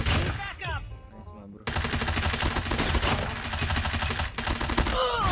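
Gunfire in Call of Duty Mobile, a dense stream of rapid shots close by, follows a brief quiet stretch with scattered sounds and continues almost without pause to the end, under occasional speech.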